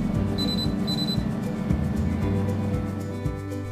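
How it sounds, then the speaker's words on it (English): A Pinsoon air fryer oven's timer alarm beeps when frozen shrimp and calamari are done, two short high electronic beeps early on over a steady low hum of the running appliance. "there's an alarm that beeps when it's ready."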